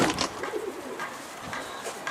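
A pigeon coos softly a few times in low, rolling calls against faint background noise.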